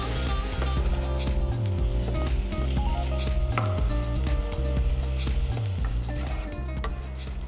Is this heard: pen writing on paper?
no